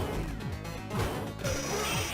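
A heavy crashing smash of a breakable door in the Mega Drive beat 'em up Paprium, loud and layered with game music and thuds, followed by a second impact.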